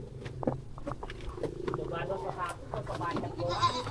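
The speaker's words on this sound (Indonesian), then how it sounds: "Oh, kambingnya tuh." Goats bleat in short calls among nearby livestock, mixed with people talking close by.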